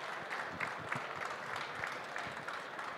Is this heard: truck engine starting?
no